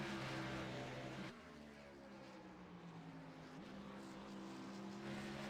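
Race car engine lapping a track during a championship series race, a steady droning roar with gear-change pitch drops, heard from a distance at low level.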